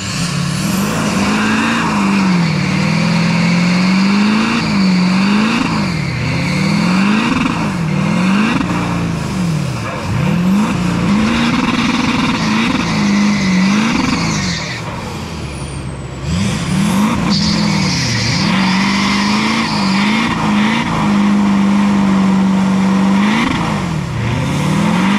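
A Duramax diesel drift truck with a T56 gearbox accelerates hard in third gear, its engine loud and close as it revs, with the pitch climbing and dipping through continuous throttle changes.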